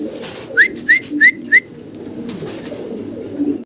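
Pigeons call from a cage, giving four quick, loud rising whistle-like calls in a row, then fainter softer cooing over a steady low background.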